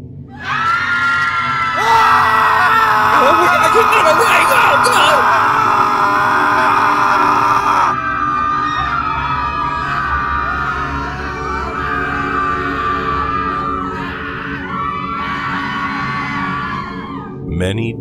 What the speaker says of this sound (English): Everyone began to yell and scream as they ran for their lives.